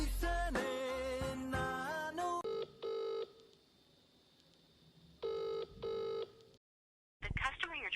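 A phone call goes unanswered, with a mobile ringtone playing in repeated short melodic bursts separated by pauses, fairly clear and close. A voice speaks briefly near the end.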